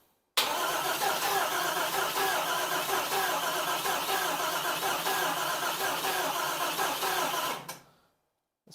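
An engine cranks steadily and rapidly on the starter without firing during a compression test on cylinder 7 of a boosted OBS truck, a loud, even chugging that runs for about seven seconds and then cuts off.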